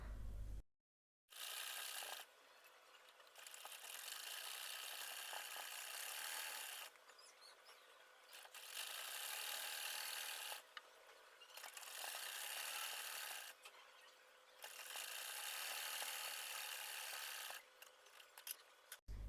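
Machine stitching along a salwar to hold its elastic in place, heard as runs of steady rasping mechanical whirring in several bursts separated by short pauses, fairly close and with no talk.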